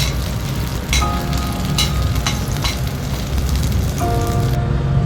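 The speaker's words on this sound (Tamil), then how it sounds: "இது ஃப்ரை ஆனதும் 6 மிளகாய் வத்தலும் சேர்த்து இந்த எண்ணெயிலே இது வறுத்துக்கலாம்" Six dried red chillies fry in hot oil, giving a loud, dense sizzle with bursts of crackling and a few clinks of a utensil against the pan throughout.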